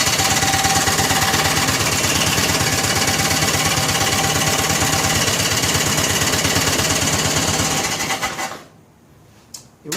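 A 1964 Cushman Scotsman golf cart engine runs close and loud with a rapid, even putter for about eight seconds, then cuts out into near quiet with a few faint knocks.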